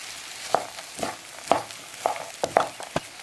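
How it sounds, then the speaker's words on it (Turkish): Bulgur being roasted and stirred in a pan with tomato paste and butter: soft, steady sizzling broken by a spoon scraping the pan at roughly half-second intervals, close and fairly quiet with no voices. "Şimdi salçamla beraber kavuruyorum"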